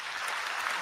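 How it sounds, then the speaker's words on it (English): An audience claps briefly at a talk show. The burst of applause is dense and steady, moderate in loudness and lasts under a second. "let's give a round of applause."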